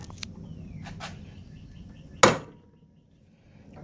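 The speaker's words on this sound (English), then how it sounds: "we take a really good punch and a little hammer, and we can literally peen where the bearing's going to go" A single sharp, loud metallic strike of a small hammer driving a punch to peen the bearing seat on a Dodge B/C/D100-200 truck spindle, ringing briefly before a quiet workshop background.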